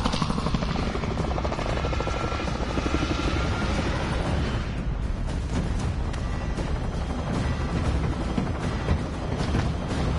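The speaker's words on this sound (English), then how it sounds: "Planes are making ready for deployment." Aircraft rev up for deployment in a Call of Duty game, a loud, continuous rotor-like roar with rapid chopping pulses that stays steady throughout and changes texture slightly midway, without speech.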